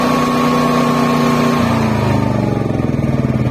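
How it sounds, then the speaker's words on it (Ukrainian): A Senci SC9000I 8 kW inverter generator runs loudly up close, then its engine note drops and sputters as it shuts down. "Двигун зупиняється."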